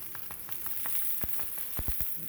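Cheese frying and crisping in a cast iron pan for a keto Philly cheesesteak, giving a soft continuous sizzle broken by several brief crackles and pops, close and fairly quiet with no voices.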